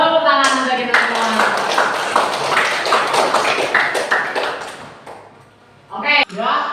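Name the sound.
class clapping hands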